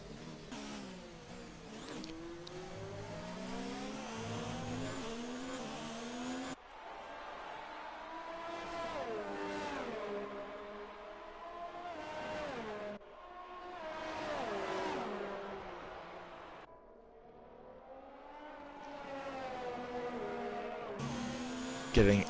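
Race cars lapping in a sim racing game at the France round, with engines whining and rising and falling in pitch as cars pass and accelerate, steady and mid-loud throughout with brief gaps between passes.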